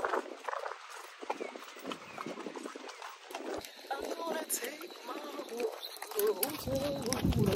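Horse hooves clip-clop at a steady walk on a horseback ride through cactus country in Aruba, close and rhythmic under ongoing chatter, with birds calling faintly.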